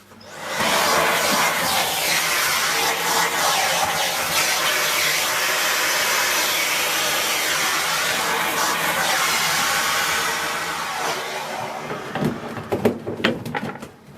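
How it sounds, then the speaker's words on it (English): A Dyson V6 or V8 cordless vacuum cleaner runs with a loud, steady high-pitched whine and airflow hiss for about eleven seconds, then cuts out into a few clicks and handling noises. "then I'll just get my vacuum and we will clean"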